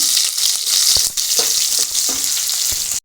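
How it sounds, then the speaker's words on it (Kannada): Onion and garlic fry in hot oil with a loud, continuous close-up hiss and sizzle, broken by a few brief knocks and stirring sounds before stopping abruptly. "ಈ ಥರ ಎಣ್ಣೆಯಲ್ಲಿ ಫ್ರೈ ಮಾಡಿದರೆ"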